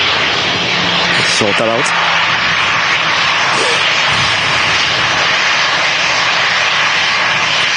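Airliner jet engines roar steadily at Manchester Airport on a wet day, a loud continuous broadband rumble filling the whole stretch, with someone talking briefly over it early on.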